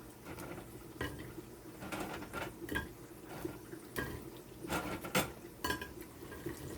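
Crispy cassava chips clattering and scraping onto a plate, sharp crunchy knocks and rustles coming in irregular bursts at close range, with no talking.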